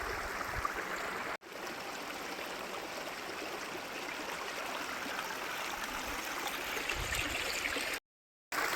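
Water flowing steadily at a dam, a constant close rushing hiss with no voices, broken only by two short dropouts to silence.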